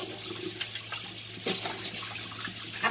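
Raw chicken is rinsed by hand under a steadily running kitchen tap, with water splashing continuously and shifting slightly as the pieces move, close and fairly loud with no talking.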